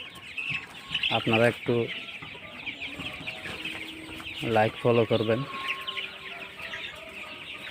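Tiger chickens, 28-day-old birds, cluck in two loud bursts of rhythmic, stacked calls, with softer clucking between them and a voice talking over the flock.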